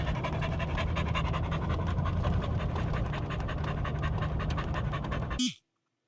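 A hot dog pants rapidly and steadily, close to the microphone, a rhythmic stream of quick breaths that runs for several seconds before cutting off abruptly.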